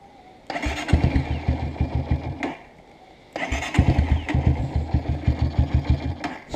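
Honda CRF 230 motorcycle with a cold engine starting twice: each attempt catches into a rough, pulsing idle with throttle blips for about two seconds, then cuts out briefly before the second run, close and loud.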